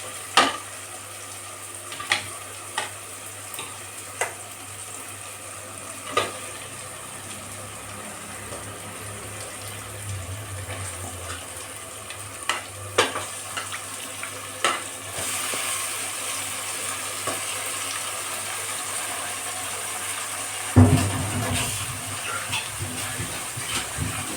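Chicken pieces frying in a tomato gravy in a pan, a low steady sizzle broken by sharp scrapes and knocks of stirring, and the sizzle swells louder partway through.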